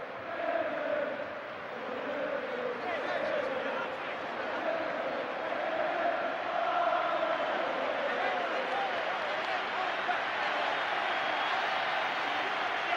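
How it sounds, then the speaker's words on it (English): Liverpool fans at the 1986 FA Cup final against Everton at a packed stadium, a steady broad roar of cheering and applause swelling and holding throughout, under a commentator's voice. "just look at the Liverpool fans giving a cheer to the Everton players going round"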